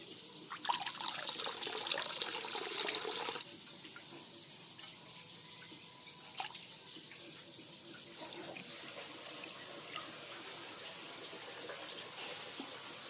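Water pouring and splashing steadily at a fish farm, loudest in the first few seconds and then easing into a softer continuous trickle and rush with a few faint knocks.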